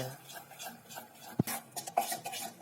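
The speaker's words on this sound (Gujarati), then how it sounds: "ચાલો તો એની અંદર થોડો ઘીનો પણ નાખી દઈએ ત્યાર પછી તેની અંદર બરાબર મિક્સ કરી લઈએ" Jalebi batter with added ghee is stirred in a bowl: soft wet scraping strokes, one sharp knock against the side, then more brief rubbing.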